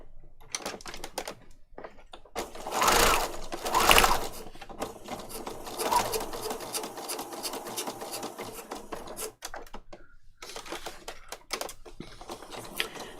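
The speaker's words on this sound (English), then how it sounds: "Put my locking stitches in." A sewing machine puts in locking stitches and then a straight stitch on paper patchwork, with rapid mechanical clatter in short bursts and pauses and a few louder thumps, heard up close.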